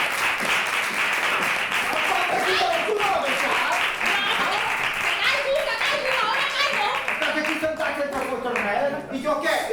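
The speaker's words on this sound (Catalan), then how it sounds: "Un aplaudiment, que ja comença." A theatre audience at a microtheatre session applauds steadily and loudly, dense clapping filling the whole stretch with voices mixed into it.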